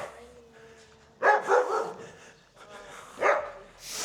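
Dog barks in a few short bursts, close and fairly loud, with faint voices in the background.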